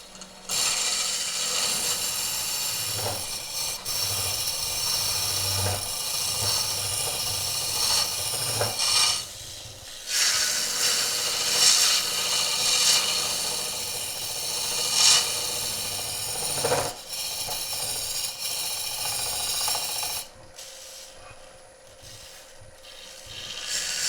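Hollowing tool plunging into spinning wood on a lathe: a harsh, scraping rasp of cutting that runs in long bursts, broken by brief pauses and sharp drops, close and fairly loud.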